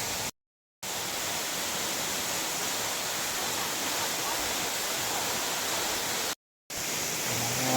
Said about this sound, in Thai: นี่ครับเมื่อกี้เป็น น้ำตกผา น้ำตก